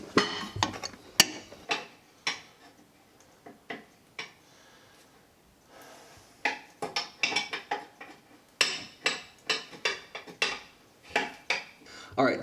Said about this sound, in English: we're going to take it loose up on the top using our adjustable crescent wrench